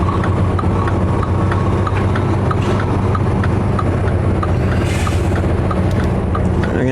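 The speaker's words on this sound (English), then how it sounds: "this guy in this blue tractor here is gonna wanna go somewhere" A blue tractor engine idles nearby with a loud, steady low rumble and a regular ticking clatter riding on top throughout.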